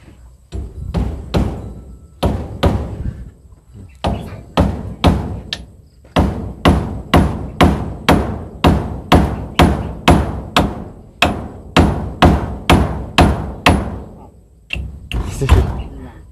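Repeated sharp hammer strikes on nails ring out in quick, steady bursts, loud and close, with brief pauses between runs of blows, during house construction.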